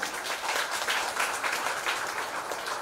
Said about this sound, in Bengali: জয়ন্ত স্যারের জন্য হাততালি হয়েছে